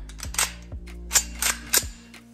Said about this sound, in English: That means when you squeeze a trigger, it goes bang.